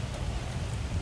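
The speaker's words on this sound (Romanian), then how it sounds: "plouă și vedeți și voi că plouă foarte tare" Heavy rain pours down outdoors as a steady, dense hiss with no breaks, close and fairly loud, with no voices.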